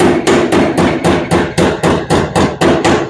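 Loud, close hammer blows on Shoebox Ford sheet metal in a garage, about a dozen evenly spaced strikes, each ringing briefly before the next.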